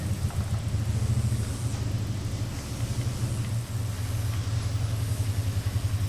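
A four-wheeler ATV engine drones steadily throughout, a low continuous rumble with a slight pulsing throb, moderately loud and unbroken over several seconds with no voices.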